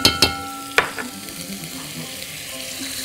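Butter melting in a pan for a nut-studded vermicelli dish gives off a soft continuous sizzle, opened by a few sharp clinks of utensil on metal.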